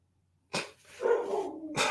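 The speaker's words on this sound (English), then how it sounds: "what is he barking at?" A dog barks twice, close and sharp, at about 0.5 and 1.8 seconds, with a strained whine or breathy vocal sound between the two barks.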